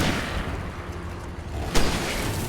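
A single sharp rifle shot cracks out in the Alan Wake action game, a short loud burst over a steady rumbling background.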